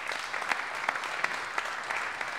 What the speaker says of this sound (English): Let's get a round of applause, please.